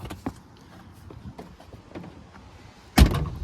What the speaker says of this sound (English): See, door shuts well.